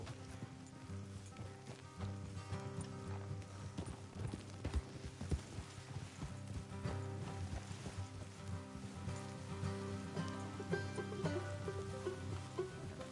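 Horse hooves clip-clop at a steady walking pace in the video game Red Dead Redemption 2, over a constant low ambient drone, with no talking.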